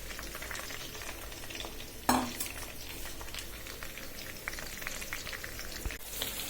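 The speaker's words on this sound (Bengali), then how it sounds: "এবার কেটে রাখা পেঁয়াজ, রসুন, কাঁচামরিচ দিয়ে দিচ্ছি। এগুলো ভালোভাবে ভেজে ফেলবো" Chopped onion, garlic and green chili sizzle in hot oil in a pan, a steady crackling fry with a sharp louder burst as they go in, heard close and alone.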